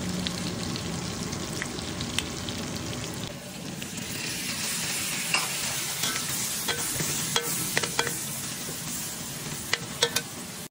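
Sautéed ingredients for a mung bean stew fry in a pan while a utensil stirs and scrapes through them, a steady sizzle punctuated by scattered clicks and taps, up close, with no voices.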